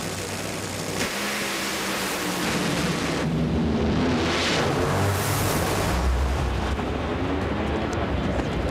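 Jack Beckman's Funny Car in NHRA drag racing at Indy suffers an engine explosion when an intake valve drops and ignites fuel in the cylinder; a loud, sustained roar with a sudden heavy blast near the start and rumbling engine noise continuing throughout.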